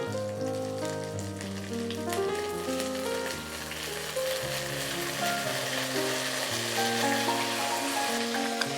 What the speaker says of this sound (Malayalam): എണ്ണ ചൂടാകുമ്പോൾ അതിൽ ധാരാളം കറിവേപ്പില നമുക്ക് ആഡ് ചെയ്ത് കൊടുക്കാം.